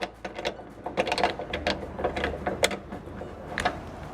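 Phillips screws being backed out of a BMW F30 trunk, making rapid small clicking and ratcheting ticks in an uneven run, close up with no talk.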